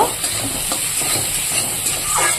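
Spices frying with potatoes in a pan, a loud, even sizzle and hiss with a few soft stirring scrapes over a brief stretch, no talking.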